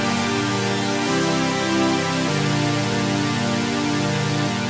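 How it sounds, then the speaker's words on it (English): Two layered synthesizers ring out in a sustained, wide chord pad, shifting chord every second or so, loud and steady with no voices. "And for the second part, I just layer two synths,"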